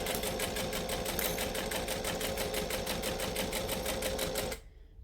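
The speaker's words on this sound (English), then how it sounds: "I have less control over my sewing machine when I wear shoes." A sewing machine runs slowly and steadily, stitching fabric in a fast even rhythm of needle beats close by for about four and a half seconds, then stops abruptly, leaving a quieter room.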